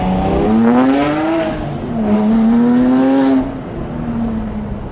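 A 2011 Porsche 911 997.2 GT3 RS 3.8-liter engine revs loudly and climbs through the gears, its pitch rising and falling with each shift, heard close from inside the car.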